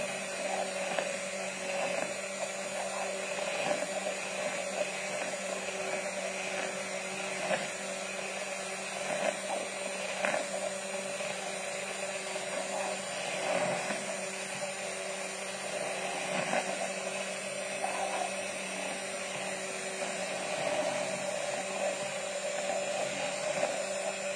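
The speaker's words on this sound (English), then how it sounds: "I just want to froth it up for about a minute or so, just to get it nice and creamy." Something is frothed until creamy, making a constant high electric whirring buzz that runs steadily for over twenty seconds, close by and without talk.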